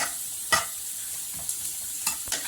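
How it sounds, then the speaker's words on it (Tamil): Soft sizzling in a pan with a few scraping stirs of a spatula at irregular moments, fairly quiet overall, while sautéing for mushroom dosa. "நல்லா வதக்கி விட்டுக்கலாம்"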